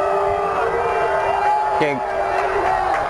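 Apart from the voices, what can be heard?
football crowd cheering, getting louder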